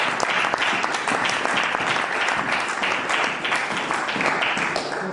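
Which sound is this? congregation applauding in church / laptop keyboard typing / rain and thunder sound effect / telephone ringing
congregation applauding in church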